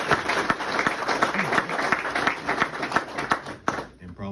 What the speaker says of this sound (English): That alone deserves some applause.